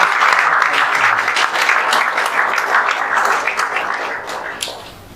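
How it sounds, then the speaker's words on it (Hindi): A loud round of applause from a crowd honoring JEE Main exam students at a coaching-class celebration, dense clapping with sharp individual claps on top that gradually tapers off at the end. "और एक बार जोरदार तालियां।"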